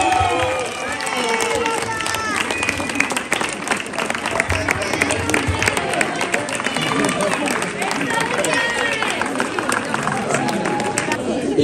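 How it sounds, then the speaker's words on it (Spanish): Crowd at a San Juan village festival in Rabanera del Pinar applauding a festival announcement, sustained clapping mixed with cheering and loud chatter filling the whole stretch. "¡Un aplauso!"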